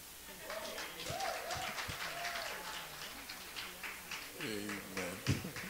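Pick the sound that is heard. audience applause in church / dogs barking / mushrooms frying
audience applause in church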